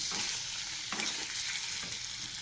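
Salt and turmeric being stirred into a curd pointed gourd dish, a soft hiss beneath a few scraping strokes of a spoon against the pan, close and moderately quiet.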